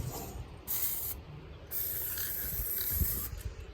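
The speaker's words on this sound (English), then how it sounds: "we're going to spray paint them silver" Two bursts of chrome silver aerosol spray paint hissing from a can outdoors, the second longer and steady, with strong wind noise rumbling underneath.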